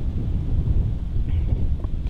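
Wind buffets the microphone outdoors on a cool day, a steady low rumbling roar that stays fairly loud throughout and fluctuates slightly in strength.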